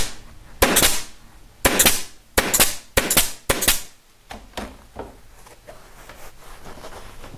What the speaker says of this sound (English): you do get your staples one right after the other